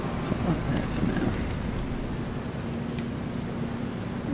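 Steady rain falls in Farming Simulator 25, a continuous even wash of noise with a low rumble underneath, holding level throughout with no talk.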